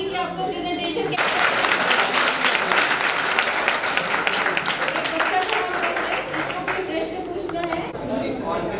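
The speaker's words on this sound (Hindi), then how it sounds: "आपकी तालियों की आवाज बताएगी कि आपको प्रेजेंटेशन कैसे" Sustained applause from an audience at a business training presentation, dense loud clapping that swells after the first second and continues steadily throughout, with some crowd chatter underneath.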